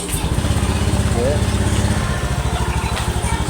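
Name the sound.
Honda Beat eSP scooter engine started, idling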